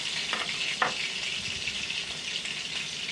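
Chopped steak frying in a pan gives a steady, close crackling sizzle with a couple of brief spatters and stirring sounds, and no one talks.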